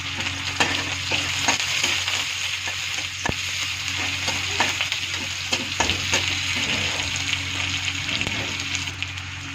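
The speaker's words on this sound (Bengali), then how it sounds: "জিরা ফোড়ন দিয়ে দিলাম, আর একটু লং আর দারচিনি দিয়ে দিলাম" Cumin seeds, cloves and cinnamon sizzle in hot oil in a pan with onion, a steady crackling fry with sharp pops and occasional stirring clicks, fairly close and with no talk over it.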